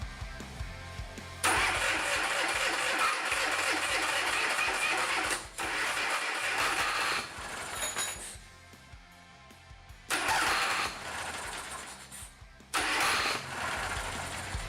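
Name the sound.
Oka car engine being cranked, failing to start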